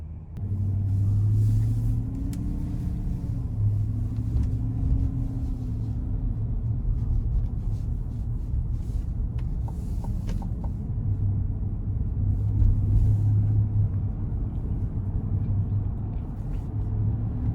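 The 5.3-liter V8 of a 2022 GMC Yukon SLT hums at a low, steady level while driving, with a rumbling drone and mild swells of acceleration under road noise, no talking.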